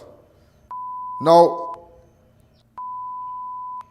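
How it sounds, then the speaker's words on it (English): A steady electronic censor beep marks a gunshot in crime footage, sounding as two long flat tones of about a second each separated by a short gap, with a voice speaking briefly between them. "The beep is the sound of the gunshot."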